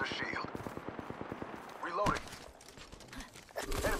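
Rapid automatic gunfire in Apex Legends, a steady burst of close, evenly spaced shots followed by sharper sporadic in-game impacts and effects, with a player talking over the action.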